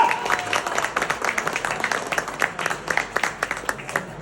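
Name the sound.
applause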